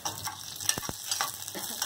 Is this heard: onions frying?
yes